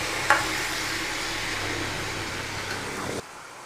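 Chopped onions and three tomatoes sautéing in a pan for a Tamil tamarind broth, a steady soft sizzle with a faint clink of a spoon near the start, no voices.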